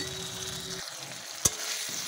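Ginger, garlic, onion and raw cumin paste frying in a pan over cooked tomatoes for a cauliflower and meat curry, a soft steady sizzle with one sharp click midway.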